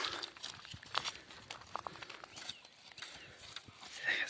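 Faint, irregular hoof clops and shuffling from draft horses moving about freely outdoors, with scattered rustling and a busy ambient background.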